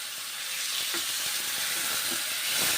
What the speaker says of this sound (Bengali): মুগের ডালগুলো ভেজে নিচ্ছি